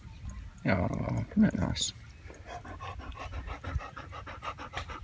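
A small excited Sherpa dog pants rapidly and rhythmically close by, with a few brief yips, while a person talks over the first part.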